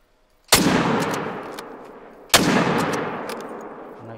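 Two loud, close rifle shots fired at a bear in theHunter: Call of the Wild, about two seconds apart, each a sharp crack followed by a long echoing tail.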